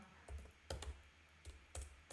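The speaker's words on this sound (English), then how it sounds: "I'm typing it down now." Quiet typing on a computer keyboard: a few soft clusters of key taps in an irregular rhythm, close but faint, with short pauses between bursts.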